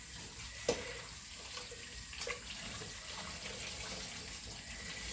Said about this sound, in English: And kind of rinse the pan out